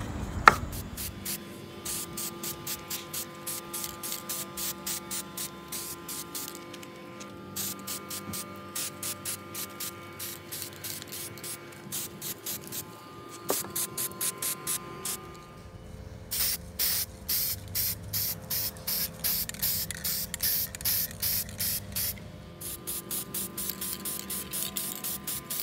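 A spray paint can sprays galvanized-look paint onto thrift-store farmhouse decor, coming as a long series of quick, short, fairly faint hissing bursts in rapid rhythmic succession with a faint background hum.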